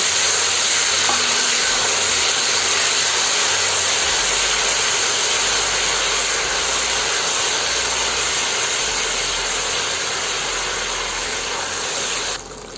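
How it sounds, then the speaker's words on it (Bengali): Ginger-garlic paste sautés in a pan as the base for a pangas fish curry with pui shak greens, giving a steady, close frying sizzle and hiss that runs unbroken with no talking. "এখন আমরা এই আদা রসুন বাটাটাকে 3-4 মিনিট একটু কষা নেব, আদা রসুনের গন্ধ চলে যাওয়া পর্যন্ত।"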